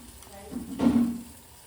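Medu vada frying in hot oil, a short soft sizzle that swells briefly and fades, close and fairly quiet.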